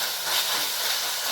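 Finely chopped green chillies fry in oil in a pan for a carrot bhaji, giving a brief, even, bright sizzling hiss with no talking.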